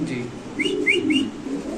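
Mundian pigeons cooing, a soft low repeated warble running through the moment with a few short higher chirps over it, close and steady.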